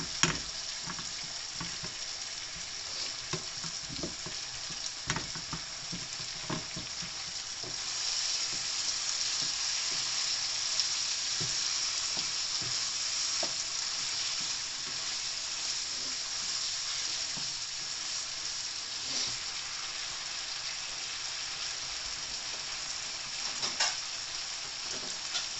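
Chicken karahi sizzling steadily in a heated karahi pan, a continuous crackling fry with occasional faint clinks, close and even throughout with no talking.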